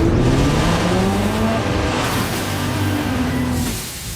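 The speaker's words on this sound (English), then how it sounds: "Rev up your engine!" A Ram truck's small six-cylinder engine roars continuously with rising and falling pitch, loud and close, easing off near the end.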